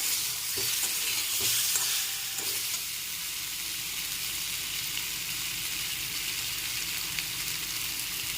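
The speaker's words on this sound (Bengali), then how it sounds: "এবার আমি আমের টুকরোগুলো তুলে দিচ্ছি একটু হালকা নেড়ে চেড়ে এর মধ্যে দিয়ে দিচ্ছি হলুদ গুঁড়ো" Raw mango pieces are stirred into a hot spice tempering with turmeric, giving a continuous close sizzle and several soft scraping stirs early on, then an even frying hiss; no talking.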